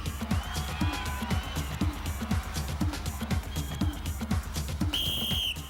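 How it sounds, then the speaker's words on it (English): A sharp whistle blast rings out at the end of a Gladiators event heat, following a busy stretch of shouting crowd noise and rhythmic clatter. "you will go on the first blow of the whistle"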